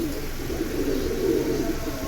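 Silver pigeons, including a big male, coo softly and continuously in a loft, a low steady murmur with no talking.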